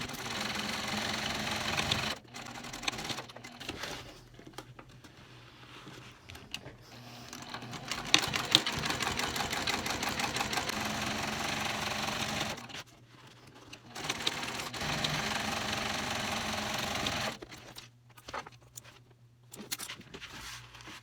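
A sewing machine stitching tote bag panels, running in bursts of rapid whirring stitches separated by short pauses, close and fairly quiet.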